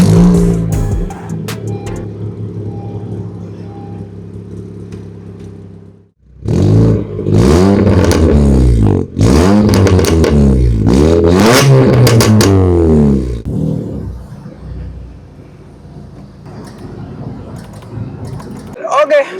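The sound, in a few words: car engine revving with aftermarket exhaust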